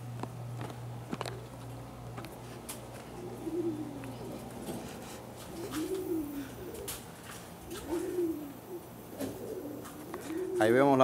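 Domestic pigeons coo in soft, repeated rolling calls at moderate distance, with a few flutters and footsteps around a loft, while a low steady hum runs underneath.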